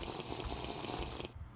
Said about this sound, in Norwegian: Kanskje jeg skal drikke litt vann nå.